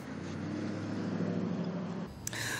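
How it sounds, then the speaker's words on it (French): Motorcycle engines roar in a steady, loud drone at a South African race, rising and falling before a sudden cutoff and a sharp noise near the end. "En Afrique du Sud, les courses de moto font de plus en plus d'adeptes."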